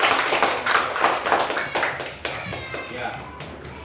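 Schoolchildren clapping in a classroom after a group discussion presentation, a busy patter of small hands that swells and fades in bursts, with children's voices chattering beneath it.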